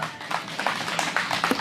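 Audience applauding at an outdoor Wednesday anti-THAAD protest rally in Soseong-ri: a sustained, even wash of clapping hands, moderately loud and steady throughout, with no voices standing out.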